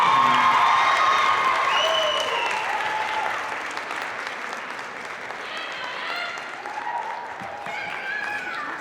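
Crowd applause and cheering in a gym at a high school gymnastics section final after a vault medal award, a dense sustained roar of clapping with shrill whistles and shouts, easing slightly over time while a voice speaks over it.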